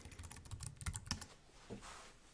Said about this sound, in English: So I'm going to start off by typing in dentist journals.